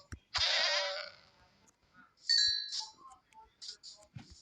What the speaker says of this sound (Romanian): Mie nu-mi plac caprele.